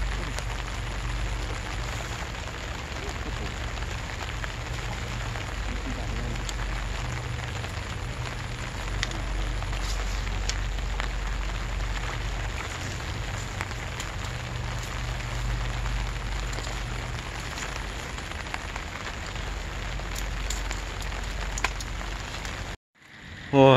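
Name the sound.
rain falling during river fishing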